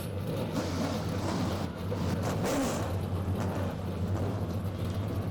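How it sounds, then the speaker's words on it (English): Twenty-nine late model race car engines fire up together at Langley Speedway in Hampton, Virginia, making a dense, steady roar from a crowded field that never lets up. "29 engines come to life in Hampton, Virginia at Larry King Law's Langley Speedway for one of the biggest late model races of the year"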